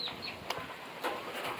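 Hens on a rural property clucking softly in short, scattered bursts, fairly near, with light background hiss and no talking.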